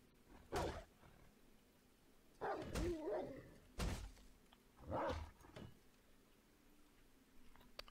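A dog in the survival video game 7 Days to Die gives about four sharp, separate barks spread over several seconds. They sound fairly close against a quiet background, with no talking.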